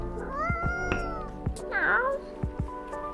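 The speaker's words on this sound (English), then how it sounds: "Do you have a new pet cat then?" Several cat meows and short mewing calls come from the video game Coffee Talk, bright and close, with soft thumps between them.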